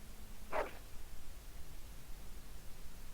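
A single short dog bark from Dragon Age Origins sounds once near the start, fairly close and clear, followed by quiet hiss.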